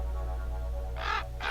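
Harsh caws like those of a raven: two loud, rough calls close together near the end, over a steady low hum.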